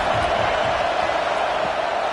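A stadium crowd at a college football game on Saban Field roars loudly and continuously on third down. The dense, steady wall of noise carries no distinct breaks.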